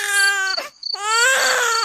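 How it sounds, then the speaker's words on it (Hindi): A small baby cries in a narrated Hindi story, with two loud, wailing bursts split by a brief hitch and gasp, close and clear with no talk over it. "अरे ये किसके बच्चे की रोने की आवाज है?"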